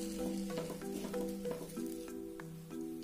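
Samosa filling being stirred in a hot pan after chopped coriander and tomato sauce are added: a soft, steady sizzle with scraping stirs, fairly quiet, over a faint steady tonal hum.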